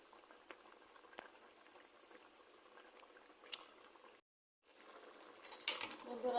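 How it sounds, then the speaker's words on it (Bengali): Beef pieces boil in a pot of water for biryani, giving soft, faint bubbling with an occasional light clink, a brief drop to silence, then the bubbling returns slightly louder. "সব মাংসটা তো ফুটে গেছে"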